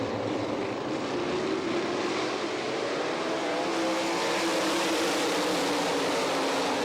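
World of Outlaws sprint cars race at night on an Ohio dirt speedway, a loud continuous roar of many engines close by, with pitches rising and falling as the pack passes, alone without talk.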